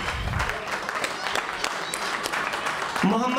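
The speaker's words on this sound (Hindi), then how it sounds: "बच्चों के लिए तो कम से कम तालियां बजाइए" Applause from the audience for children at an award ceremony, moderate and continuous clapping under someone talking over a microphone.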